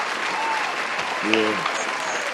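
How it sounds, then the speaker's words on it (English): A studio audience applauds an actor on a talk show, a steady wash of clapping throughout while a host speaks over it. "round of applause, actor Antrone Harris"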